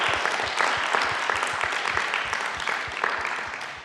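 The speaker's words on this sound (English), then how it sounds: "So can we give Emma a round of applause" An evening lecture audience gives a speaker a round of applause after a talk on foundlings and the arts: dense, sustained clapping from a crowd, loud at first and tapering slightly toward the end.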